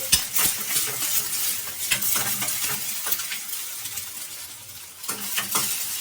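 An egg fries in a pan over a high flame, with steady sizzling and crackle throughout, broken by occasional scraping and clinks of a spatula against the metal.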